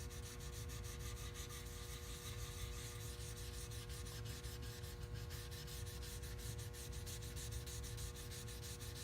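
Steady wet sanding of a mahogany boat half hull with soapy sandpaper, a continuous close rubbing scrub of even loudness with no gaps and no voices.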